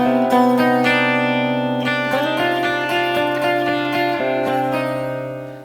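Electric guitar with effects and reverb plays the third pass of a riff, with rich ringing notes and gliding pitch changes, loud and continuous before trailing off.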